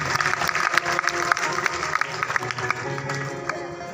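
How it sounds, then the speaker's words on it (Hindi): Audience clapping at a Bhagwat Katha religious gathering, a dense, steady burst of many hands that fills the whole stretch, with some crowd noise and faint voices mixed in. "जोरदार इनके लिए पहले तो तालियां कर दीजिए।"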